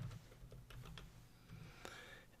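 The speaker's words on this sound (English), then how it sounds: "I'm going to type in" Soft typing on a computer keyboard while entering text in a spreadsheet: a quiet run of light key clicks in uneven bursts over a low background hum.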